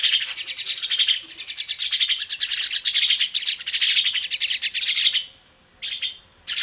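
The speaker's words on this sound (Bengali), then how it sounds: "দেখতে পাচ্ছেন পাখিগুলো এখন মাথার উপর বসে আছে।" Small birds chirp and tweet close overhead in a home bathroom, a dense, continuous run of bright calls for about five seconds, then a short pause and a few more calls.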